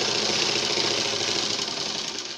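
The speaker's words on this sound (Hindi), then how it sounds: "ऐसे पूरी पट्टी पर ऐसे सीधा आखिर तक सिलाई लगा देंगे इस तरह से।" A sewing machine stitching a collar strip straight along cloth runs steadily up close, a fast, even motor whir and needle chatter that holds constant throughout without any voices.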